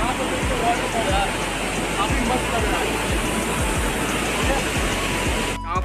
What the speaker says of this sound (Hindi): और यहाँ पर देखो वाटरफॉल यार